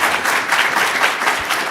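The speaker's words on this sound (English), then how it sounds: "please join me in giving the speakers another round of applause for their wonderful talk and" Audience applause fills a lecture hall after a talk, a steady dense wash of clapping with no voices over it, loud and close throughout.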